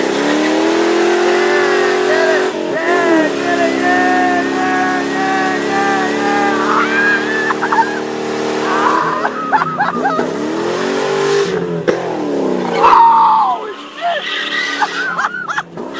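A Ford Mustang GT with a MagnaFlow exhaust revs hard through a burnout, with the engine climbing and falling in loud close bursts, screeching tires and people shouting over it.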